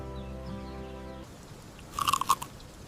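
Crisp crunching bites of an apple at a shaded bench under a big tree, a short cluster of sharp crunches with chewing, close and fairly loud after a quieter tonal passage.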